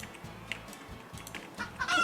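Chicken clucking from the Roblox game Chicken Life, with brief clucks and squawks rising toward the end, close and fairly quiet over soft game background noise.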